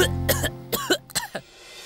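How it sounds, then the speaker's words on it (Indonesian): A person coughs several times in quick, harsh bursts at close range, with short gaps between them, then falls quiet. "Tuh kan, batuk terus."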